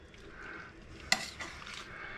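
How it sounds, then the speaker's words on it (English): Duck breast with ginger sizzling and frying in a pan, a steady soft hiss with one sharp clink of utensil against pan partway through and light stirring or scraping after. "So now that it's starting to sizzle, I'm not ready to turn it over yet"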